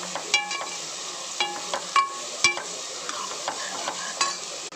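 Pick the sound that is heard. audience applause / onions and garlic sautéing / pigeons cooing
onions and garlic sautéing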